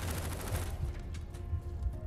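Dense, muffled gunshots from the video game Firewall Ultra thud in a rapid cluster, with low booming bursts rolling over one another throughout.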